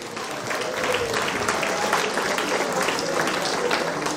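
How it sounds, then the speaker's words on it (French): Audience applause at a Saint-Jean festival gathering, a sustained, even roar of many people clapping together from start to finish, fairly loud and without a break. "je vais vous demander de vous applaudir encore une fois"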